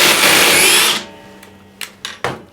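A DeWalt or Hercules brushless power tool driving a 3/8 drill bit whines loudly at close range for about a second, then cuts out, followed by a few short clunks and knocks.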